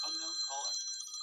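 A phone rings indoors with a steady electronic trilling ringtone, close and moderately loud, holding its tone throughout the short burst.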